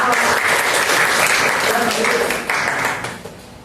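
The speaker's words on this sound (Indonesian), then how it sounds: "tepuk tangan dulu kan, tepuk tangan" A class claps hands together in a steady, loud, dense burst that lasts a few seconds before tailing off, with voices mixed in during a classroom informatics lesson.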